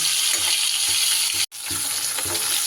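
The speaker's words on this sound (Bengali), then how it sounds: "বাকি মাছও কিন্তু আমার সুন্দর করে ভাজা হয়ে গেছে, এগুলোকেও আমি এবার তেল থেকে তুলে নেব" Spotted snakehead fish pieces frying in oil, a loud dense crackling sizzle close up, with a brief dropout midway before the frying hiss resumes.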